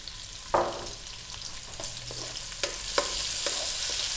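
Onions and garlic sauté in a pan for a Filipino crab dish with squash, a steady close sizzle broken by a few sharp scrape-and-stir knocks, with no voice.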